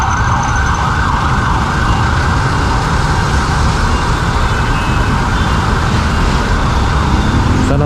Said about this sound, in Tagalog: Ambulansya ng Manila.